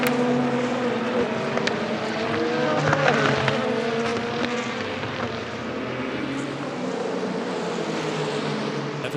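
Endurance racing cars, including an Aston Martin and a Ferrari, compete in the European Le Mans Series 4 Hours of Portimão on the Algarve circuit, engines droning steadily with pitch sweeps as cars pass side by side, continuous and fairly loud.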